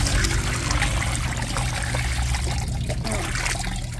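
Freshly caught bagungon fish being rinsed in a basin of water, a steady close trickling and splashing that runs continuously with faint speech-like murmurs underneath.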